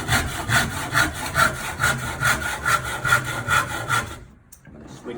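A hand saw cuts wood for a birdhouse in steady back-and-forth strokes, about two per second, close and rasping, until the cutting stops abruptly near the end.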